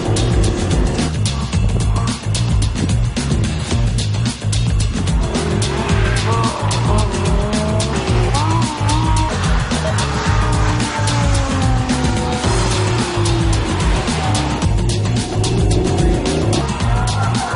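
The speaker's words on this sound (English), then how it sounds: "it's the Lamborghini Gallardo Spider Performante, basically a roadster version of the hardcore Gallardo Superleggera" Lamborghini Gallardo Spider Performante, a lightweight all-wheel-drive V10 roadster, driven hard on a race circuit: loud continuous engine roar with rising and falling revs through gear changes and bursts of tire squeal.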